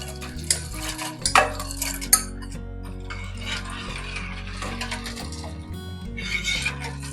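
Ice goes into a tropical sago jelly milk drink in a kitchen, making a few sharp clinks and knocks against a container over steady background music.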